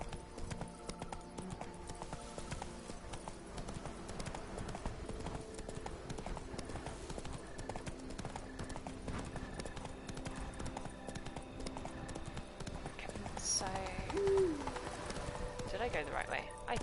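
Roach the horse trotting in The Witcher 3, a steady rhythmic clip-clop of hooves throughout, moderately close, with someone talking over it.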